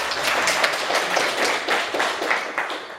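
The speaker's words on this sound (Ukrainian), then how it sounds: "Оплески учасників." An audience applauds participants at a district sports competition for people with disabilities, a brief burst of scattered clapping, moderately close and continuous for a few seconds.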